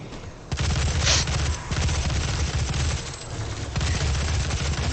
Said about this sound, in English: Let's get the heavy assault rifle with the missile launcher.